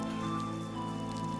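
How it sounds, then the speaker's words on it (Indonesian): Light drizzle patters steadily on a surface, a soft continuous wash of small raindrops with no voices over it. "Bapak mendengar rintik hujan."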